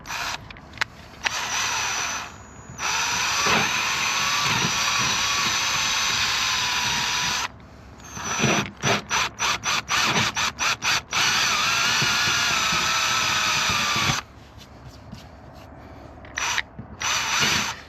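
A power drill drills in long steady runs, broken by a quick series of short bursts as the trigger is pulsed, near and fairly loud, during boat maintenance.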